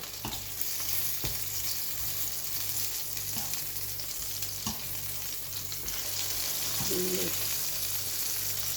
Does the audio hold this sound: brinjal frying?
yes